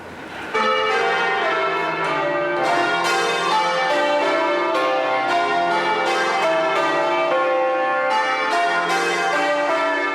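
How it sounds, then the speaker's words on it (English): London's Bow bells, church bells rung by a team of bell ringers, pealing loudly and continuously in overlapping strokes with a rich ringing tone, no voices. "Today, the bells are rung every week by a group of bell ringers who work in the city."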